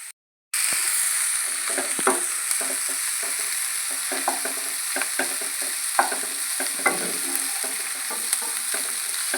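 Grated cabbage and coriander frying in a pan for veg momos filling: a steady, close hiss of sizzling oil with repeated spatula scrapes and stirs in an uneven rhythm, starting after a brief silence.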